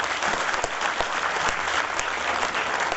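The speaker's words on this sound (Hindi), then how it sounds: "एक बार जोरदार तालियों से इनका स्वागत" An audience at a Delhi event gives a loud, sustained round of clapping to welcome Chief Minister Sheila Dikshit, dense and even throughout with no voices over it.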